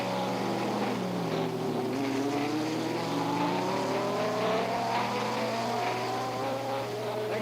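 A Formula One race car engine at the 1967 Canadian Grand Prix drones steadily, its pitch sweeping upward and shifting as it passes along the start-finish straight, loud and continuous with no talk.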